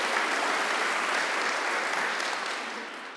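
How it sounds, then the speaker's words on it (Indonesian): Congregation at a church service claps in dense, sustained applause that stays loud and steady before easing slightly at the end, with no voices heard. "tepuk tangan buat Allah kita"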